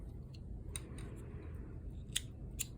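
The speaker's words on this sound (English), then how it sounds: "Got some thread snips here," Thread snips cut yarn while a heart-shaped granny square is crocheted: a couple of faint, crisp snips near the end over a low background rumble, with no talking.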